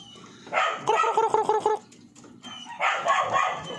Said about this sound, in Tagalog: Manok yun ah.